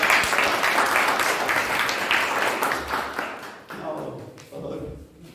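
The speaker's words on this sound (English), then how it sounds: "Have a big round of applause." An audience at a Toastmasters impromptu speech contest claps loudly and densely at first, the applause thinning and fading over several seconds as murmuring voices and scattered claps remain.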